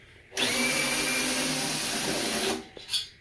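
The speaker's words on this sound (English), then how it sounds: "all you need is a drill, and then we can just start unscrewing the" A power drill whirs continuously for about two seconds as it unscrews M6 bolts from the base of a hanging tube, then cuts off with a short clunk, close and alone with no voices.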